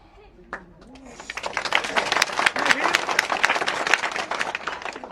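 Crowd applause at a public political speech: after a brief voice at the start, dense clapping swells and holds loudly, with scattered cheers mixed into the sustained ovation.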